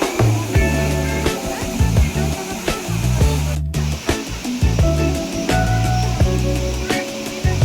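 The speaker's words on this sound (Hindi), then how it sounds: "सामने चट्टानों से नीचे गिरता पानी" Water pours over rocks at Elephant Falls in Meghalaya, a loud, continuous rushing spray heard beneath rhythmic background music.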